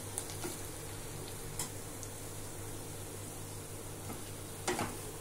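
Thinly sliced onions frying in a pan for gongura egg curry, a steady soft sizzle running throughout with a few brief crackles and pops, close by and fairly quiet.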